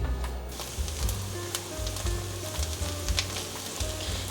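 Shiitake mushrooms stir-frying in oil in a wok for a vegan taro dish, a continuous bright sizzle with crackling pops and occasional stirring knocks, close and loud with no talk.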